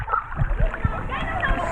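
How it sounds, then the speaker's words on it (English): Water splashing and sloshing at the foot of the Big Dipper water slide in a resort's main pool, a few uneven splashes close by with people talking over them. "So I just went down the Big Dipper water slide"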